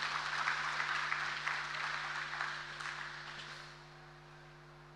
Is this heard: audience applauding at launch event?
yes